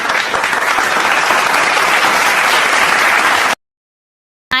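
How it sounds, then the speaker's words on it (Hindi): An audience bursts into loud, dense applause for several seconds, many hands clapping together close up before the sound cuts abruptly to silence. "इसके लिए जोरदार ताली बजाओ"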